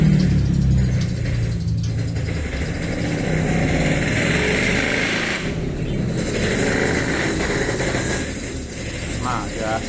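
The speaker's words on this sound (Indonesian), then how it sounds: "ada motor berisik" Noisy motorcycle engine running nearby, a continuous loud rumble that swells and fades slightly, with someone talking over it.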